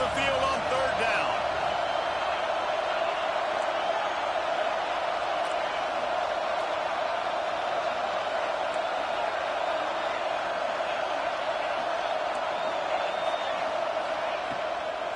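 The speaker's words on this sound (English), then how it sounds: "Here comes this home crowd as the defense tries to get off the field on 3rd down." A home stadium crowd at an LSU versus Ohio State football game roars as the defense tries to get off the field on third down, a loud, unbroken wall of noise that holds steady throughout.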